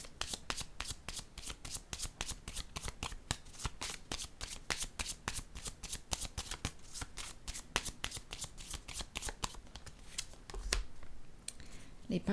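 A deck of cards is riffled and shuffled for a tarot reading, a rapid run of crisp flicking clicks at an even pace, close and continuous, that tails off into a few softer taps near the end.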